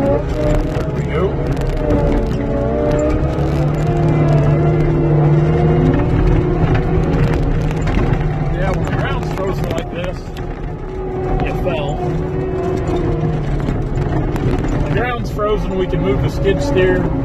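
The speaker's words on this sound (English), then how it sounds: "We can really turn the skid steer really good right now on this frozen ground." A skid steer drives and turns on frozen ground, its engine a continuous, close rumble with shifting whir and scraping, while a person talks over it.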